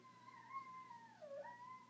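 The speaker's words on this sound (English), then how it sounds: "That's my dog making howling noises outside" A dog howls outside in one long, faint, wavering tone that dips and rises again, distant and thin over a low steady background hum.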